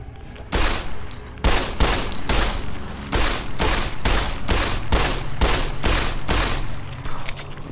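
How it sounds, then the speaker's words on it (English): Gunfire in Fallout New Vegas rings out as a rapid series of about a dozen loud, sharp shots, spaced in a fairly regular rhythm with a short gap early on, each crack followed by a brief echoing tail. "Pretty sure the last few shots didn't even hit."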